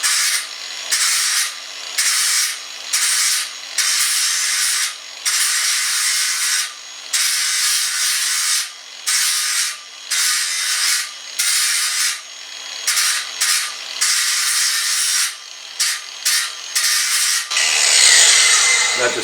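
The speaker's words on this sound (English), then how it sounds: "I'm just going to use like a grinding disc and just give it a very light go over" A grinding disc makes a very light pass over a metal blade, producing repeated bright, hissing bursts of abrasion with short pauses between strokes, steady and fairly loud, no talking.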